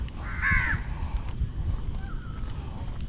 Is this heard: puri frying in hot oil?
no